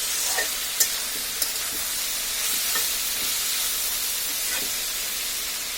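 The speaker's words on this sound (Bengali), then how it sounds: "দিয়ে এবার ভালোভাবে নাড়াচাড়া করে দেব।" Salted bitter gourd frying in a pan while being stirred, a loud continuous hissing sizzle with a few sharp spatula taps.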